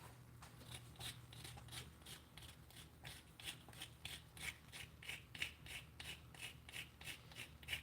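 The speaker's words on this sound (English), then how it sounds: "I'm just gonna scrape some of that fresh cinnamon in there." A fresh cinnamon stick is grated against a scraper in quick repeated rasping strokes that come in a fairly even rhythm, faint but close, while a low kitchen hum runs underneath and nobody speaks.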